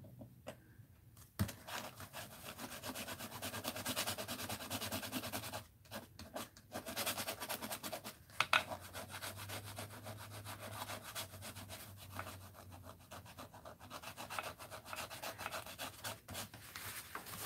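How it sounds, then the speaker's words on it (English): Steady scraping and rubbing as material is scratched away from an artwork, close and fairly quiet, in short repeated strokes with brief pauses and a few sharper knocks, with no talking. "Let's see if I can scrape away a little bit more of this in."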